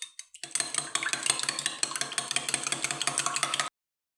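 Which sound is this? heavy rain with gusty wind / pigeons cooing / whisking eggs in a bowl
whisking eggs in a bowl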